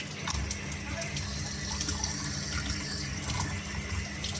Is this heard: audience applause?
no